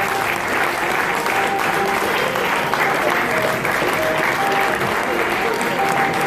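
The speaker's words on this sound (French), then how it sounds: "Et on les applaudit, mesdames et messieurs" Sustained applause from a crowd at an official ceremony in Côte d'Ivoire, steady and dense at moderate distance, with a faint voice running underneath.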